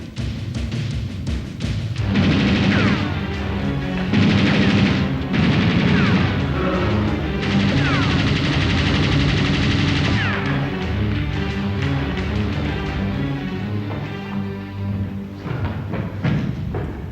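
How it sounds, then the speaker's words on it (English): Gunfire in a cop action movie, with repeated loud shots and bursts of automatic fire mixed into a dense, continuous soundtrack of crashes and score for over fifteen seconds. "we heard some shooting, sir"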